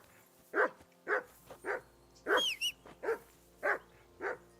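A dog in the video game Kingdom Come Deliverance II barks repeatedly in a steady rhythm, about eight barks spaced roughly half a second apart, moderately near over a quiet ambient background.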